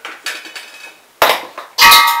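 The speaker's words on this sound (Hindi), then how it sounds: "इसके बाद आप इसे गैस पे रख के गैस को ऑन कर दें" A few sharp metallic clanks of a pot of water set down on a gas stove grate, with the last two knocks loudest and ringing briefly.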